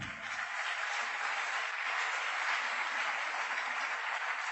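A church congregation applauds together, producing a dense, even wash of clapping that holds steady and fairly loud for several seconds without a break.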